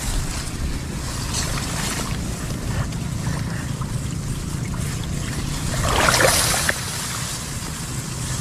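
Rough sea waves churn under a strong wind near a small boat during backyard airgun fishing, with steady low wind rumble and buffeting on the microphone and a louder surge of breaking surf near the end.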